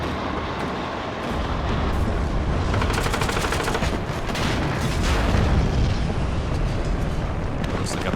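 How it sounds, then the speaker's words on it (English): Loud, dense battlefield explosions and gunfire from the Cold War strategy game WARNO, a sustained roar of blasts and crackling shots filling the scene as a tank is destroyed at close range. "Looks like a pretty big explosion there."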